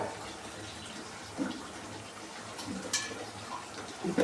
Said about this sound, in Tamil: இப்போ இதுக்கு தேவையான ஒரு சொம்பு தண்ணி ஊற்றிக்கிடுவோம்